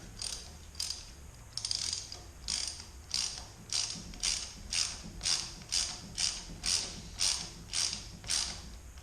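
A ratchet works the neck bearing nut on a Yamaha Bolt motorcycle's triple tree, clicking in a steady rhythm of about a dozen even strokes, close and clear with no talk.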